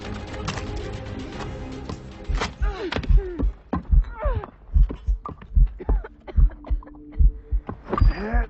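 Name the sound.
heartbeat sound effect in Assassin's Creed Rogue video game cutscene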